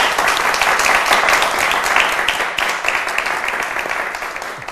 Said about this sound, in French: On va s'applaudir très fort.